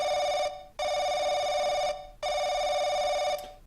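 A telephone rings in the horror video game Paranoiac, sounding two long electronic rings separated by short gaps, loud and close with no voices over it.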